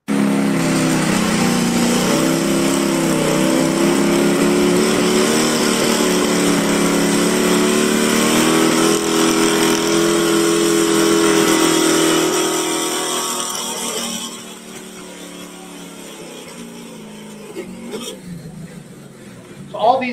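A pulling truck's engine roars loudly and steadily for about fourteen seconds at a sustained high rev, then drops away to a lower, quieter idle-like rumble with some faint background noise.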